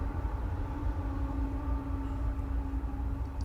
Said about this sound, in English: You'll hear the train